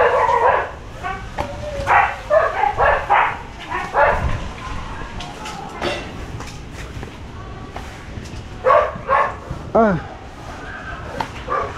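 A dog barks in repeated short bursts and yips in a home yard, moderately near, mixed with whimpers and a person talking over it.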